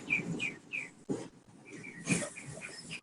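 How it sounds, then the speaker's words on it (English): Small birds chirp in repeated short high tweets through the background of a room, fairly faint, with a few louder broadband bursts between them and no speech. "has some birds chirping in the background."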